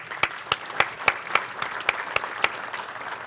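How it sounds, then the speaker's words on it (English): A conference audience at a farming profit seminar gives presenters a round of applause, steady moderate clapping with distinct sharp claps standing out over the crowd. "Let's give them a round of applause."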